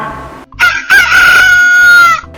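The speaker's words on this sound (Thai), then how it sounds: "มีไก่ตัวหนึ่งขันเก่งมาก ทุกเช้าตู่ มันจะตื่นขึ้นมาขันเสียงดังกังวาน" A rooster crows once, loud and near, a long ringing cock-a-doodle-doo preceded by a short cluck.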